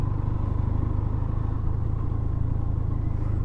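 A motorbike ridden along a road entering Jammu and Kashmir in Kathua district, its engine humming steadily and loud with constant low rumble and road noise throughout, no talking.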